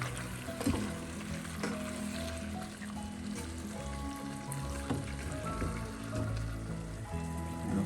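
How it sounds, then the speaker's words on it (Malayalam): Chicken being added to a pan of cooked tomatoes and stirred, a steady soft sizzle and frying crackle with faint scraping, low and continuous throughout. "ഈ സമയം നമുക്ക് വൃത്തിയാക്കി വെച്ചിരിക്കുന്ന ചിക്കൻ ചേർക്കാം. ചിക്കൻ ചേർത്തൊന്ന് ഇളക്കി കൊടുക്കാം."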